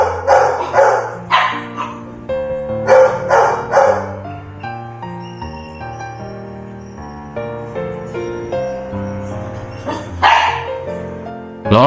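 Young puppies, Chinese rural mixed-breed dogs, let out repeated high yips and barks in clusters, loud and close, with soft music running underneath between the outbursts.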